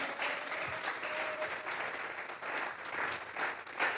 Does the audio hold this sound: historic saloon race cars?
no